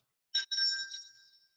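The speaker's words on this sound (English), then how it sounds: "I want to see if everyone can hear that bell." A timer warning bell at a candidate forum gives a brief strike and then a second ring that hangs and fades, faint and alone in an otherwise quiet room.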